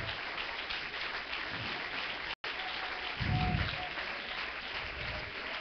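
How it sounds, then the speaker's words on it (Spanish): Congregation applauding during a church service, a steady, fairly even wash of clapping with a brief dropout partway through and a low rumble swelling in the middle. "Dale ese aplauso al Señor,"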